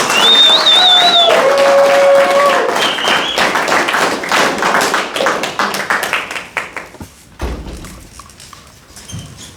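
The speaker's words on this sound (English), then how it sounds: "Please clap very loudly for Toastmaster Chip King." Loud sustained applause from a Toastmasters club audience greeting a speaker, a thick wash of many clapping hands with a brief whistle early on, thinning out toward the end amid a few thumps.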